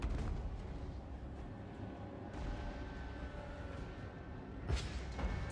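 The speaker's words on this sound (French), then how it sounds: "donc là on tire juste avec des mortiers" Mortar batteries firing in the strategy game Total War: Warhammer 2 during a Mortal Empires campaign battle: dull distant booms over a rumbling battlefield bed, with a sharper report near the end.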